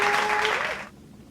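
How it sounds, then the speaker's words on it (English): A short recorded applause effect plays when a Dose of Colors Hidden Treasure eyeshadow palette is opened, a brief burst of clapping and cheering that cuts off abruptly after under a second. "let's open it up and hear the applause"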